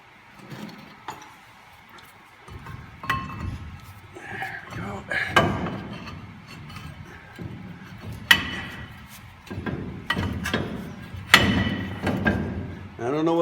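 Brake rotor and caliper being refitted on a Ford F100 truck with a Crown Vic swap, heard as a series of scattered metallic thumps, clanks and knocks at close range, uneven in rhythm, with a few sharper hits among them.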